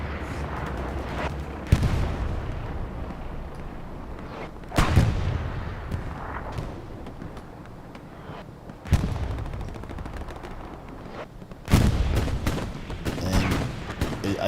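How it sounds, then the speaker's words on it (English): Heavy artillery fire in the World War II shooter Hell Let Loose on the Sainte-Marie-du-Mont map, with four booming blasts spaced a few seconds apart over a constant rumbling battlefield din and no talk. "And I do hear artillery rocking."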